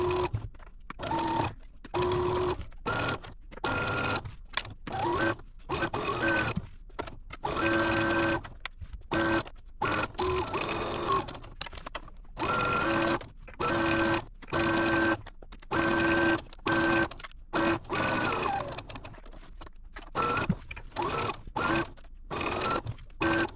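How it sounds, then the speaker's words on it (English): A sewing machine stitches a pillowcase in repeated runs of steady, whirring motor hum, each burst lasting about a second and separated by brief pauses, close and loud with no talking. "I'm going to go stitch it. So if you'll join me at the sewing machine."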